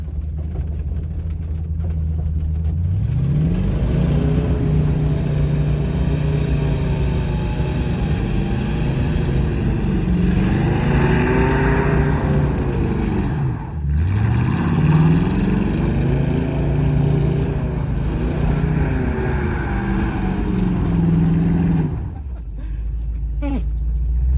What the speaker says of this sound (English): We hit the rev limiter.